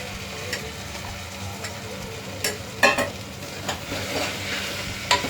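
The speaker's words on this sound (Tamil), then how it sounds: "பீட்ரூட் நல்லா வதங்கணும். பீட்ரூட் நல்லா வதங்கட்டும்." Beetroot sautéing with softened onion and tomato in a pan, giving a continuous close sizzle broken by a few sharp spoon scrapes and clatters as it is stirred.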